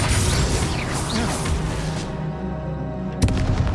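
The Confringo fire spell in Hogwarts Legacy bursts with booming blasts and whooshes amid duel noise, then a sharp second explosion cracks near the end.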